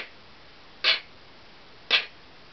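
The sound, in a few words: voice imitating short unvoiced consonant, the pickle sound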